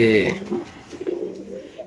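Caged pigeons give low, throaty coos close by, mixed with a person talking nearby.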